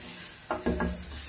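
Margarine sizzling on a hot grill pan makes a steady close hiss, with a couple of brief louder crackling bursts in the middle.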